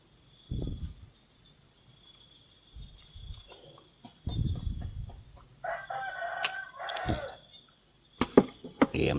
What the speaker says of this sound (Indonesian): Yang sudah berkokok.